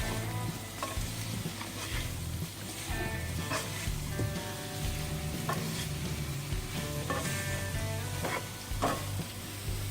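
Fried potatoes for dry dum aloo are stirred in a pan with mango powder, black pepper and roasted cumin. A spoon scrapes in a continuous, even rhythm over a low, steady sizzle and hum, with no speech.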